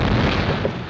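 A deep, dense boom from an 8-inch howitzer shell, a single heavy low burst filling the brief moment, loud and rumbling without talk.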